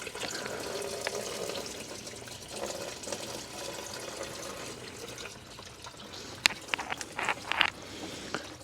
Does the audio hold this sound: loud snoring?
no